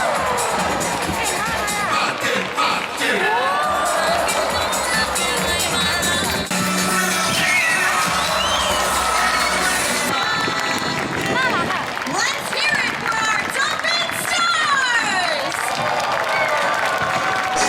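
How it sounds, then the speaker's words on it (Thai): Children in the stands at a SeaWorld San Diego dolphin show shriek and scream as the dolphins splash water at them, a loud, continuous wave of excited crowd cries and cheering mixed with voices. "เด็กๆข้างล่างแบบกรี๊ดกันใหญ่เลยนะ เพราะว่าเจอน้องโลมาแกล้งเอาน้ำดีดใส่"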